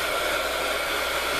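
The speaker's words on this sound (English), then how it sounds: "I'm gonna kind of dry that out for a few minutes with my heat gun." A heat gun blows steadily to dry ink on a paper art tag, giving a continuous, close, loud rushing whir with no other sounds.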